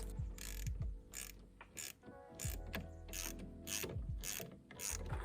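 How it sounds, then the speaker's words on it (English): A 1/2-inch wrench ratchets bolts tight on a remote hydraulics valve mounted under the hood of a Mahindra tractor, giving close, repeated mechanical clicking strokes in quick bursts with brief pauses between them. "A 1/2-inch wrench will get it totally tight."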